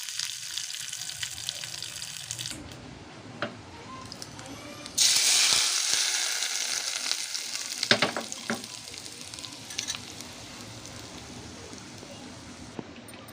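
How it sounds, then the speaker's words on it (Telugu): Curry leaves dropped into hot oil flare into a sudden loud sizzle partway through, then settle into steady crackling frying, with a voice talking over the quieter stretches. "అలాగే కరివేపాకు వేస్తున్నాను."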